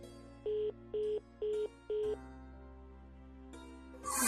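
A phone rings four times in short, even electronic bursts, close and clear, followed by a quiet pause and a rustle at the end.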